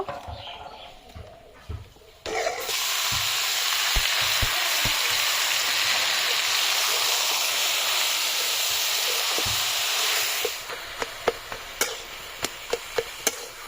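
Mixed leafy greens hit hot oil with browned garlic paste, bursting into a loud, steady sizzle and hiss that holds for several seconds, then thins into crackles and scattered clinks of stirring.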